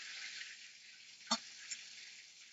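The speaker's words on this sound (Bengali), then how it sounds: "আমরা সব মাছ এইভাবে আমরা ফ্রাই করব" Rohu fish frying in hot oil gives a faint, steady hiss with one sharp clink near the middle and a softer tap shortly after.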